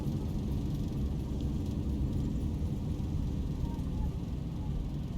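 An airliner's thrust reversers roar on landing in the X-Plane 11 flight simulator, a continuous heavy low rumble that stays steady and loud throughout.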